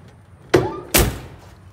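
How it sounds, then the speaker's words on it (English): An old classic car door is shut twice in quick succession, two loud, close solid thuds about half a second apart in an otherwise quiet setting. "The door closes really well."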